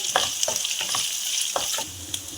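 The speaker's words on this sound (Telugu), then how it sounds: "tea spoon ginger garlic paste ఒక టీ స్పూన్ పసుపు రెండు కరివేపాకు రెమ్మలు వేసుకొని ఫ్రై చేయాలి" Ginger garlic paste, turmeric and curry leaves fry in a pan with a steady hiss, broken by repeated sharp scrapes and taps of a stirring spoon at an irregular rhythm, close and moderately loud.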